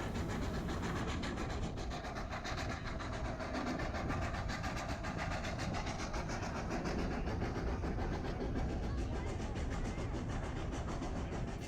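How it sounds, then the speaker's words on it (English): A steam train on a Colorado mountain railroad rumbles steadily along the tracks over a high fill with a continuous low roar and rhythmic clicking of wheels, close and loud throughout. "the train heads out over the high fill and negotiates the last horseshoe curve on the railroad"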